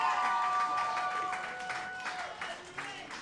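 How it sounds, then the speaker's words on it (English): Crowd at a live wrestling show cheering and applauding after a high-flying dive through the ropes, a steady roar of claps and shouts kept fairly distant, with a commentator talking over it. "This crowd is fired up."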